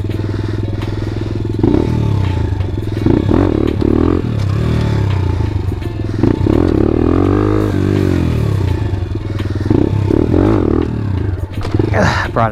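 A pit bike engine on a wheelie practice lap drones loudly and close, rising and falling as the throttle is worked, with a rider's voice talking over it.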